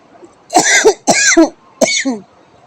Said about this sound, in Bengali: আমার একটু কাশি হয়েছে ঠান্ডা লেগে গিয়েছে